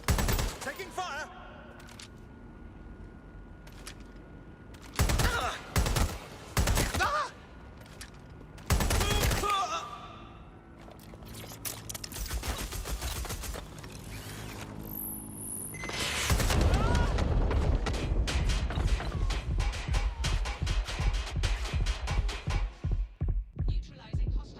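Gunfire in Watch Dogs Legion: scattered sharp shots early, then a sustained rapid burst of automatic fire near the end, with brief game voice lines.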